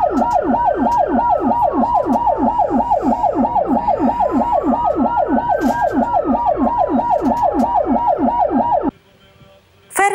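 Wailing ambulance sirens from a funeral motorcade of emergency vehicles, a loud, steady cycling yelp with a slower wail layered over it, lasting about nine seconds before cutting off into quiet street noise.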